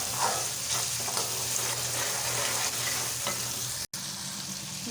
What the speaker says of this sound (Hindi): अभी ये मसाला हमारा जो है वो फ्राई हो चुका है।